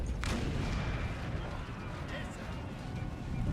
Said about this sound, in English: It could be Westfalen artillery or French artillery, I don't know.